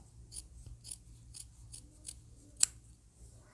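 Scissors trim the seam allowance on blouse fabric during sewing, a series of quiet crisp snips at a steady rhythm with one sharper, louder cut near the end.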